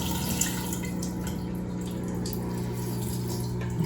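Water surges and trickles steadily through the radiator loop of a newly plumbed water-cooled i9-14900KS PC, with a constant low pump hum underneath and no voices.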